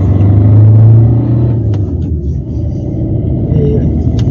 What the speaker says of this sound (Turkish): Tabii dizel ünite karakter itibariyle sesli. Ve kısmen de içeriye bu sesi alıyor.